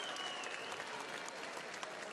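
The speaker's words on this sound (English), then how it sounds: "Applause for Asare." A boxing crowd applauds boxer Jermaine Asare after a knockout, a continuous dense wash of clapping heard from a distance, with faint voices beneath.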